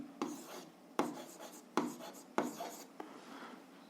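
Pen strokes scratch across paper while an algebra solution is written out by hand, with four or five distinct close rubbing bursts in a steady rhythm.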